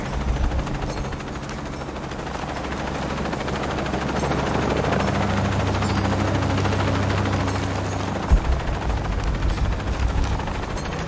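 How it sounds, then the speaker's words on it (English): A helicopter in Shadow of the Tomb Raider roars with a steady, heavy rotor drone throughout, mixed with rattling gunfire and broad rumbling noise. "Laura, I'm in a chopper. I'm not a pilot."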